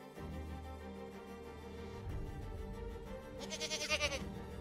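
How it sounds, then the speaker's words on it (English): A mountain goat in the wild bleats near the end, a short wavering cry over a steady bed of music or ambience, fairly faint and alone without speech. "The mountain goat is not your ordinary goat."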